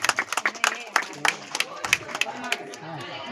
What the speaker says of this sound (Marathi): सर्वांनी टाळ्या वाजवून त्यांच्या वास्तूमध्ये स्वागत करायचं आहे।